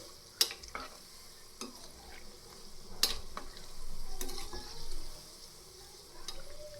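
Methi muthiya dumplings for undhiyu frying in medium-hot oil while being stirred, a soft continuous sizzle broken by several sharp scrapes and clicks of a spoon against the pan.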